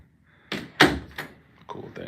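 A door is shut in a home hallway, heard as a few short thumps and knocks in quick succession, fairly close, with light handling noise between them.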